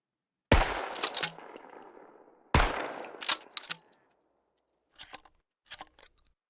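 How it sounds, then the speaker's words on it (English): A shotgun fires slugs in the survival game SCUM: two sharp, loud blasts about two seconds apart, each ringing down with a metallic reverberant tail, followed by fainter mechanical clicks of the action being worked. "Shotgun slugs, baby."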